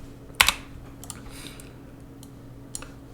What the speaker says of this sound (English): let me type a wrangle node here